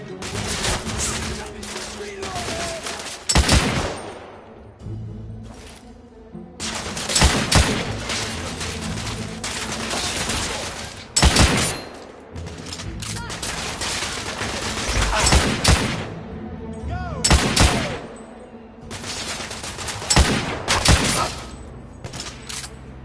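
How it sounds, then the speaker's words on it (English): Heavy gunfire in a battle from the game The Order 1886: loud bursts of rapid shots and single cracks arrive in waves, with short lulls between volleys. "I'm taking heavy fire!"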